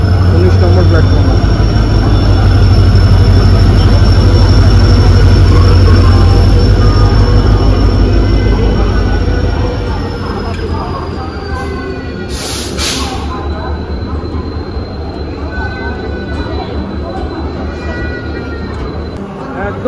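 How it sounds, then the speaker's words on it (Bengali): Howrah-Chakradharpur Express (18011) rolling into platform 19 at Howrah station: a loud, steady low rumble of wheels and engine that eases after about ten seconds, with a thin high squeal and a brief burst of brake or air hiss near the end, under station ambience. "18011 হাওড়া চক্রধরপুর এক্সপ্রেস। হাওড়া স্টেশনে ঢুকছে ট্রেন, 19 নম্বর প্ল্যাটফর্মে।"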